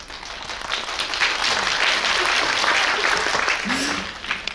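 Applause from a concert audience at a live show in Gunpo, a dense, steady roar of many hands clapping that swells and then fades, with a voice briefly heard near the end.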